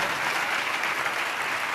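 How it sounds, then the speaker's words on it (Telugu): A church congregation claps hands together in praise, a dense, steady burst of applause filling the room at close range. "చప్పట్లు కొడుతూ దేవునికి స్తోత్రాలు చెప్దాం."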